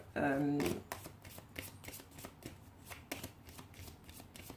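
Tarot or oracle cards are shuffled for a card reading: a brief riffle burst followed by a soft, rapid series of card slaps and hand shuffling, while someone speaks over it.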